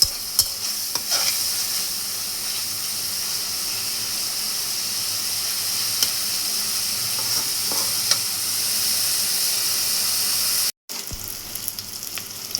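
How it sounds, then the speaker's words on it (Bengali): Egg curry fries in a pan while being stirred, giving a steady broad sizzle with faint scraping strokes of a spoon running throughout, close and continuous, with a brief dropout near the end. "আবার এটা নেড়ে চেড়ে নেব।"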